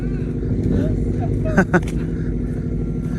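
A loud Subaru engine rumbles continuously as the car passes on a cold, snowy day, with a brief louder burst midway and voices talking over it.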